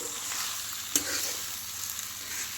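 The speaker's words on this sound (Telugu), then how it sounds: "పసుపు, అల్లం వెల్లుల్లి పేస్ట్, మసాలా మంచిగా వేగిపోయి చికెన్కి మంచిగా పట్టుకుంది" Chicken coated in turmeric, ginger-garlic paste, salt and masala fries in a pan with a steady close sizzle, broken by the scrape of stirring and one sharp knock partway through.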